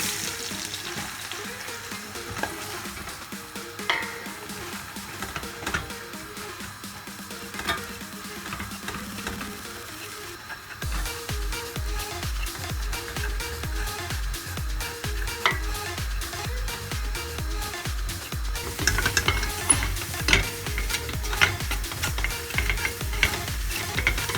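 Flour being toasted in melted fat in a pan as the base for a mushroom soup, stirred with a steady soft sizzle and repeated scraping strokes that grow busier and louder partway through, with no voices.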